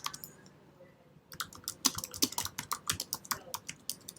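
Typing on a computer keyboard to enter a web search: a brief quiet pause, then a steady run of close, crisp key clicks in an irregular rhythm, with no talk.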